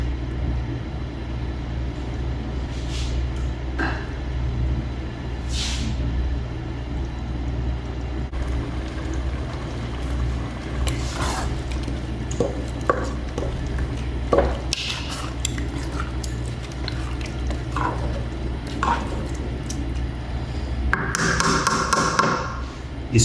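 Mung beans sauté in a hot pan over low heat, giving a steady soft sizzle broken by scattered taps and clinks of a utensil against the pan, with a louder stir toward the end.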